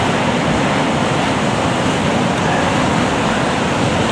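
Strong wind blowing by the sea at Aberlady Bay, a loud, constant roar of rushing air and surf close to the listener without letup.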